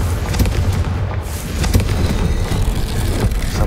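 Confringo blasting spell going off in Hogwarts Legacy, a loud, close, rumbling explosion with sustained booming and debris crackle filling the whole moment.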